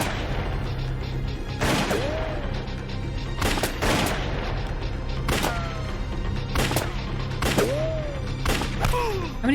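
Gunfire in an action thriller film, several sharp shots cracking out at irregular intervals over a steady loud background of film sound and effects, with no talking.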